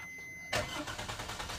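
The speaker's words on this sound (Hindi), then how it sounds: "गाड़ी स्टार्ट हो गया।" A Maruti Suzuki Ciaz is started with its push button: a quiet pause, then the engine cranks and catches abruptly and settles into a steady close idle.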